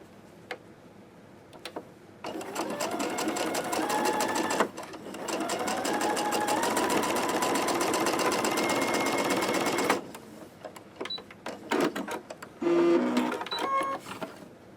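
A sewing machine stitching quilt pieces, with a steady rapid mechanical clatter in two long runs broken by short pauses, brief clicks and handling noises.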